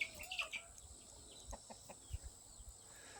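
Chickens in a backyard chicken pen give a few faint, scattered clucks and soft calls, quiet and somewhat distant over low background noise.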